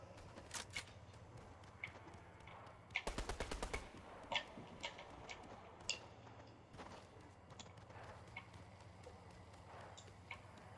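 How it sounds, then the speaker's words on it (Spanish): Gunfire in the video game Spider Carnage, a rapid burst of about eight shots around the third second followed by scattered single distant pops over quiet game ambience, with no voices. "Me encanta que estoy escuchando tiros"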